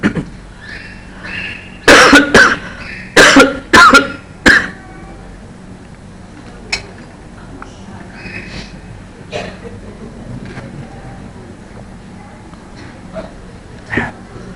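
A burst of loud coughs, several in quick succession, followed by quieter intermittent coughs and throat sounds over a low background hum.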